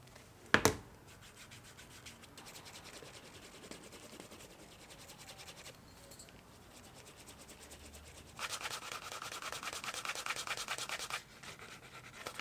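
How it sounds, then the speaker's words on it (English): Leather wallet edge being burnished with Tokonol using a wood slicker and canvas: steady, soft rubbing friction throughout, growing louder and coarser in the later stretch, with one sharp knock near the start and no talking. "giving the edge here a burnish with some Tokonol and rubbing it with a wood slicker and some canvas"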